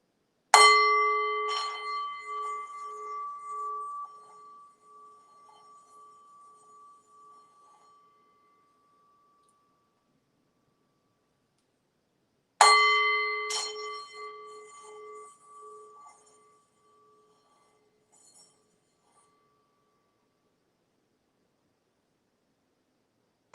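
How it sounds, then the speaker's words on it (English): A meditation sound bowl is struck twice, well apart; each strike gives a bright metallic ring with a steady hum that slowly fades into silence, close and clear with nothing else heard. "when I ring my sound bowl, it connects with me. So here's a ring for my calmed energy"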